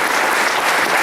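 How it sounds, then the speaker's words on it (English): Audience applause at a political candidates' event for lieutenant governor, a dense, loud, sustained clapping from a crowd with no pauses. "That is a round of applause for all of our candidates."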